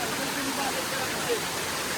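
Steady, dense rushing of water from a nearby monsoon waterfall on a Bhimashankar trek, filling the whole clip at an even loudness.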